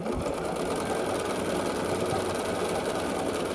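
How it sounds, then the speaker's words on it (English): A sewing machine runs steadily as it stitches scrappy sampler quilt block pieces, a fast, even mechanical whir up close with no talk. "I'm just going to match this up, and we'll start sewing"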